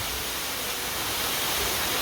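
Rain falling in a steady, dense wash of hiss that stays even and fairly loud throughout a brief moment, with no voices.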